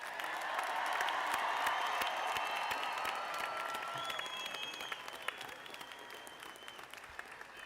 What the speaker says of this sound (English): Come on, ladies and gentlemen, let's give them another round of applause.